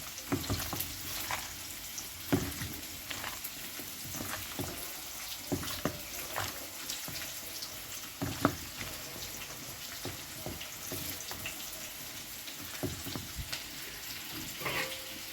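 Potatoes fry in a pan of hot oil until reddish-brown, a steady crackling sizzle with scattered pops and occasional stirring scrapes, fairly soft and continuous throughout.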